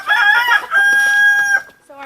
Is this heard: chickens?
yes